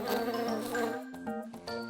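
A cartoon bee buzzes with a high, wavering tone that drifts in pitch, followed by a couple of short bright musical blips.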